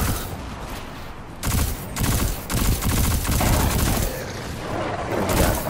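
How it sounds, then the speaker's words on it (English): Rapid bursts of submachine gun fire in the video game Destiny 2, loud and close, coming in several sustained strings with short pauses between them. "Probably should switch to the submachine gun"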